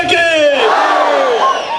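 A crowd at a BJP event in Malur roars a loud, sustained collective chant. Many voices overlap in a dense, continuous shout that stays strong throughout.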